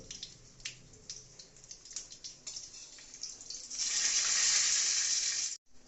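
Dry chillies, bay leaves and cumin seeds fry in hot oil, starting as soft crackles and pops, then swelling into a loud, steady sizzle that cuts off abruptly near the end.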